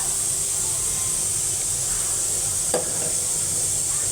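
Dal being tempered in a pot, with a steady broad sizzle of frying oil and a brief stirring scrape near the middle, loud and continuous with no talking.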